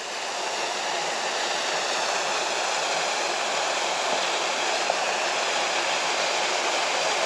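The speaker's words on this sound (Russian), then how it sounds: "здесь водопадик в японском саду" A small waterfall in a Japanese garden rushes with a steady, unbroken hiss of falling water, close and constant, with no voices.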